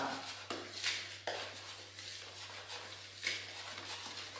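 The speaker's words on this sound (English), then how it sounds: "we're going to give that a good stir" A spoon stirring cornmeal, flour, salt and sugar in a bowl, soft scraping strokes with a few light taps against the bowl, quiet and close.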